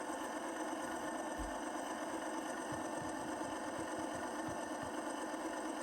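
Steady diesel drone from a UP (ex-SP) AC4400CW HO model locomotive, Athearn Genesis 2.0, with a Tsunami sound decoder running in notch 8; a continuous, fairly quiet engine hum with faint rhythmic low thumps, no talking.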